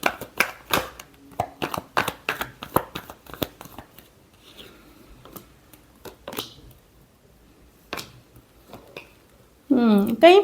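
Tarot cards riffle in a short, close, crisp burst of shuffling that comes right after a stretch of Hindi speech and a pause.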